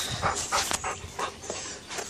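A dog pants and whimpers close by, quick rhythmic breathy sounds with a few small yelps, no talking.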